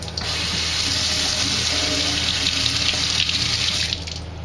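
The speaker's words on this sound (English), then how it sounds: "rinse this off." Water from a running tap pours steadily over a grubby 78rpm shellac record being rinsed clean at a sink, a continuous close splashing rush that lasts nearly the whole stretch before cutting off at the end.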